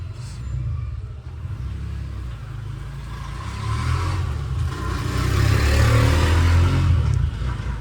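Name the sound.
auto rickshaw engine starting to drive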